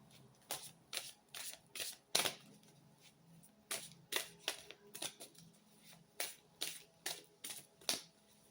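A deck of oracle cards is shuffled by hand close up, with bursts of crisp riffling and flicking separated by short pauses in an otherwise quiet room.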